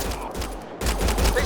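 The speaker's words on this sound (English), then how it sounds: "They shot him!" Gunfire erupts in the Mass Effect Andromeda video game, a dense burst of rapid shots starting partway through after a quieter stretch, loud and close over a rumbling low-end backdrop.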